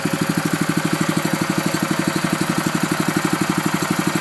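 A Billy Goat sod cutter with a Honda engine runs in top gear, a steady, close, loud chugging drone with a fast, even rhythmic pulse and vibration throughout.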